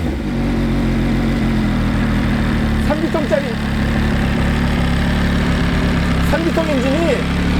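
An MV Agusta Dragster 800 three-cylinder motorcycle engine idles steadily and close by with a low, slightly rough mechanical rumble, while someone talks over it.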